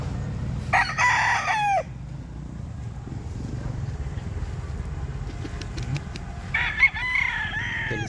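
A fighting rooster crows twice, each a clear, fairly near cock-a-doodle-doo about six seconds apart, over a low outdoor rumble of traffic and background murmur.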